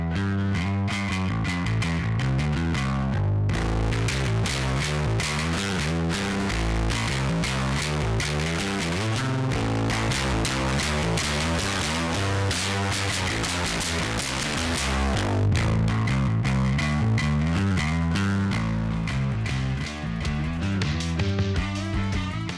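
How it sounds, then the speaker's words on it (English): Heavyocity FURY fold-over distortion modules grind out a dense, harsh, continuously loud stream of folded, buzzing tones with rhythmic pulsing, steady throughout with a brief drop in the middle. "the fifth row is a miscellaneous collection of fold-over distortions and nasty algorithms"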